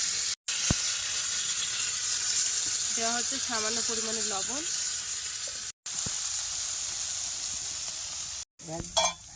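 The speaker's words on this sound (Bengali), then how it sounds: "এবারে ওই তেলের মধ্যে মটরশুঁটিগুলো ভেজে নেওয়া হচ্ছে" Green peas frying in hot oil in a village kitchen in the Sundarbans, a steady hiss of sizzling all through, broken by short gaps, while someone speaks over it.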